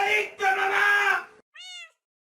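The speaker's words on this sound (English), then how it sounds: "Les presento a mi gato Nyan Cat." A house cat lets out a short, bright meow near the end, right after a burst of loud, strained speech-like noise.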